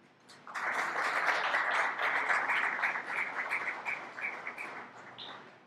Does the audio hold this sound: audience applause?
yes